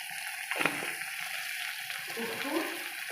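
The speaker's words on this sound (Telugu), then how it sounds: "ఇప్పుడు ఇవి ఆయిల్లో కొంచెం ఫ్రై అయ్యాయి కదా ఫ్రెండ్స్" Ingredients frying in oil in a pan, a soft steady sizzle with a stirring scrape near the start, heard quietly at close range.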